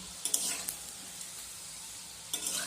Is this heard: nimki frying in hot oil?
yes